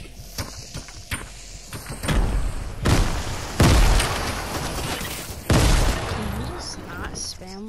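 Grenade explosions in the Fortnite video game go off as several heavy booming bursts spread over a few seconds, loud and close, with other game noise between them.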